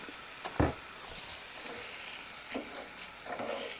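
Buffalo sauce sizzles and spatters in a hot pan with shredded rotisserie chicken, a quiet crackling fry with occasional stirring scrapes and a sharp splash as it goes in.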